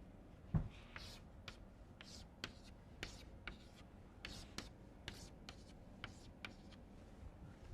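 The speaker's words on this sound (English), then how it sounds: "I will go and write here." Chalk or marker taps and scrapes on a board during a gas dynamics lecture, a series of short, irregular strokes heard up close over a quiet room, with faint speech in the background.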